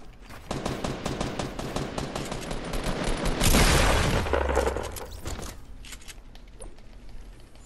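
Rapid bursts of gunfire from a Fortnite-style battle royale shooter, loud and dense through the middle with a heavy boom-like swell, then thinning to scattered shots near the end.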